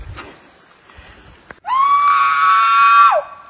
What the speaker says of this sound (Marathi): बघ कसा ओरडतोय आमचा काका. फुल जोश मध्ये आलेला आहे.